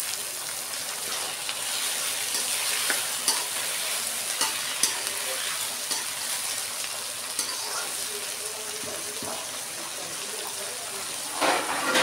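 Onion, chilli and tomato frying in a pan, a steady crackling sizzle with frequent scraping stirs of a ladle, close up and even throughout.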